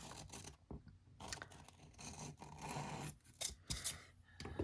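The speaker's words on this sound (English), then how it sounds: "And then use an old pair of scissors to cut it out." An old pair of scissors snips through a scrap of sandpaper, cutting out a shape traced from a nail file, giving a run of close, rough crunching cuts in short bursts with brief pauses between.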